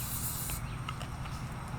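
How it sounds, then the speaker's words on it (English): A short hiss of canola oil cooking spray bursts out for about half a second, close by outdoors, followed by quiet kitchen taps and faint background rumble. "Canola spray there."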